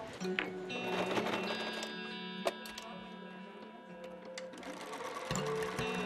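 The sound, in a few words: sewing machine sewing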